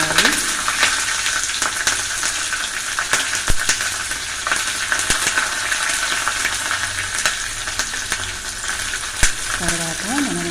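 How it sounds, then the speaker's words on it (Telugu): Mustard seeds, cumin and green chillies crackle and sizzle in hot oil for a tempering for lemon pulihora, a steady close frying hiss with scattered sharp pops throughout. "తర్వాత ఆవాలు వేసుకోవాలండి. తర్వాత జీలకర్ర వేసుకోవాలి. తర్వాత పచ్చిమిర్చి వేసుకోవాలి."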